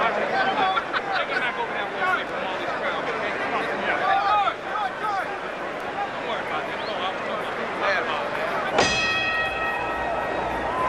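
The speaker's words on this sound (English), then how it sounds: "The bell has sounded for round 6" A ringside bell in a boxing arena, at the Muhammad Ali vs Jerry Quarry rematch, rings once near the end to start round six. It gives a bright, ringing tone that cuts through a loud crowd murmur and commentary.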